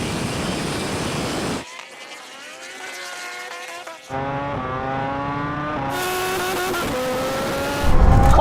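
A supercar and a superbike race at full throttle, engines roaring with rising, strained pitch through several hard accelerations, loud and close, with abrupt cuts between passages.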